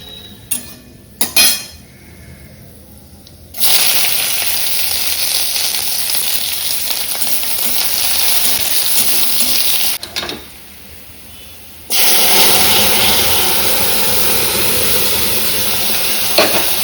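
Onion frying in a pan for a Bengali home-cooked meal of dal and fish curry, a loud steady broadband sizzle that drops away briefly twice, with light utensil clinks near the start and no talking.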